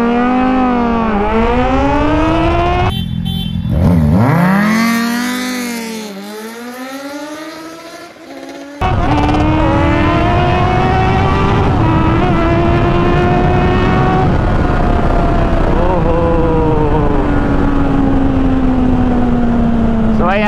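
A Kawasaki Z900 and a Z800 drag race on an empty road, engines revving loudly with rising and falling pitch through gear changes, a sharp cut in power midway before the roar resumes and holds strong to the end.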